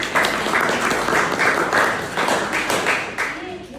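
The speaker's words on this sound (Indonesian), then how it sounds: "Tepuk tangan untuk kelompok." A classroom audience claps for a student group presenting a project, a steady broadband round of applause filling the space for nearly four seconds with some faint voices mixed in.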